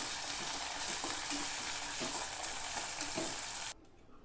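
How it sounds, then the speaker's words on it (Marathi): Ginger, chillies, garlic and cumin sauté in a hot pan with a loud, dense sizzle and light stirring clatter, then the sound cuts off abruptly near the end. "हे सगळे एकत्र भाजून घ्यायचं चांगली, आणि जिरं सुद्धा टाकूया थोडं, आणि हे चांगलं परतून घेऊया"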